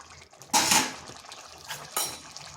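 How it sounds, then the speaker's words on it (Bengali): Eggplant pieces tipped into a cooking pan for a home-style Bengali pumpkin-stem stir-fry, producing a loud clattering splash followed by lighter knocks and a second sharp clink, close and without talking. "এরপর এখানে দিয়ে দিচ্ছি বেগুনগুলো"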